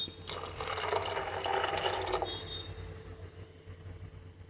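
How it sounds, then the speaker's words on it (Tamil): Water poured into a bowl of ground thuthuvalai leaves and tomato for rasam, a close, splashing stream lasting about two seconds before fading to quieter trickles. "சேர்த்துட்டு அதே பவுலில் இப்போ 2 பவுல் அளவு தண்ணி ஊற்ற போகிறேன்."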